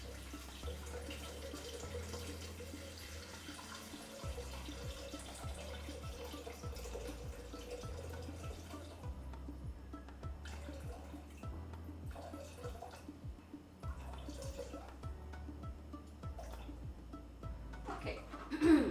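Water poured from a tap onto a weighing scale in a home kitchen, a soft trickle with scattered drips and splashes, fairly quiet under faint background noise.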